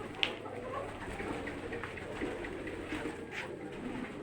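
Red and black Koka pigeons in a loft giving low, soft cooing calls, faint and intermittent against a steady background hum, with a brief knock near the start.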